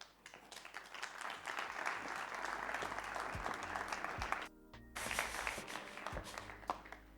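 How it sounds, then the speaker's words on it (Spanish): An audience at a technology conference breaks into sustained applause, a dense wash of clapping that briefly dips and then resumes, fairly faint and distant. "Un aplauso para ellas, por favor."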